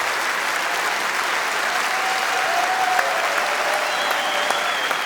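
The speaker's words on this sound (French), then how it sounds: "Applaudir là-dessus, c'est génial" Steady, dense audience applause fills a French stand-up comedy show, loud and sustained throughout with no break, a faint high whistle-like tone riding over the clapping crowd.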